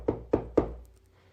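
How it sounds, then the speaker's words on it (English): Three gentle, evenly spaced knocks on a wooden house door, soft and close, followed by a short quiet decay. "The travelers came to the first house and knocked gently on the door."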